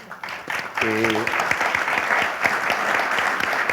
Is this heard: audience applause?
yes